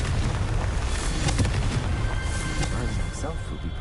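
Confringo blasting curse exploding in a Harry Potter video game: dense, booming blasts with crackling bursts that fill the whole stretch, loud and continuous, with voices mixed in.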